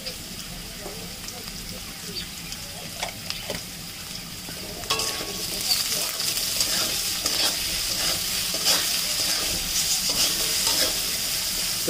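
Diced potatoes fry in hot oil with tempering spices in a pan, giving a steady sizzle. Repeated scraping stirs grow louder halfway through.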